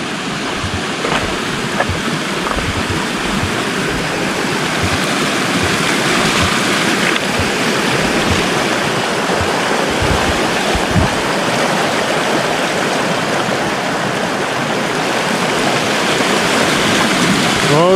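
A California creek flows with a steady, close rushing and gurgling that keeps on without a break, loud and continuous.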